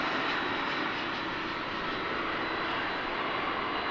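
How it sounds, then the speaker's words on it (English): An American Airlines Airbus A319 jet arrives at DFW International Airport, its engines giving a steady, loud broadband roar that holds constant throughout, with no talk. "we've got a flight coming in here"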